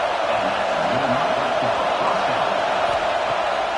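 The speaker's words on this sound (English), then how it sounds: "This crowd bringing the energy and noise early." A large stadium crowd at a Division 2 college football playoff game roars in a continuous, loud wash of noise with no breaks.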